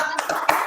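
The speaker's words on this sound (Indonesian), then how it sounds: "semuanya tepuk semangat" A classroom of children does a rhythmic spirit clap, a few sharp hand claps spaced in a quick pattern with a room murmur between them.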